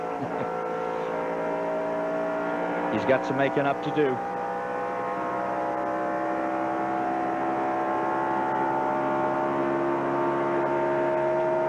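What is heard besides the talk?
race car engines roaring around track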